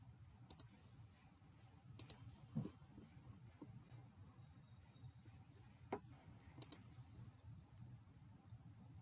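A few sharp computer mouse clicks, some in quick pairs, spaced out over a quiet low room hum.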